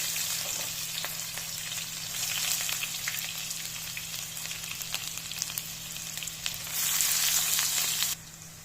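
Onions frying in oil in a pan for a home-style chicken roast, a continuous close sizzle that swells louder near the end before dropping back abruptly.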